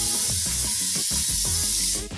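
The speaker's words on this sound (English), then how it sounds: "So I'm going to spray it one more time." A steady hiss of cooking oil spray onto chicken, one continuous burst lasting about two seconds, loud and close.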